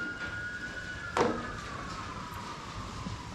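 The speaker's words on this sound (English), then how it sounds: "Let's let the sirens go by." An emergency vehicle siren wails faintly in the distance, a thin steady tone drifting slowly lower as it passes, heard from a garage where a Chevrolet Blazer with a small-block 350 is being converted to fuel injection, with a brief knock partway through.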